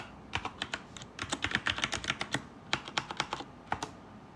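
A password is typed on a computer keyboard while setting up YubiKey two-factor login on Kali Linux: a quick, uneven run of sharp key clicks that pauses briefly and resumes, close and clear with no talking.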